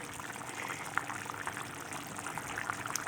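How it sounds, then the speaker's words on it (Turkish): Bulgur pours into a pot of simmering nettle stew, a soft rushing spill over a quiet bubbling bed with one brief clink. The sound is faint and close. "biraz pişirdik ve bulgurları ekliyorum"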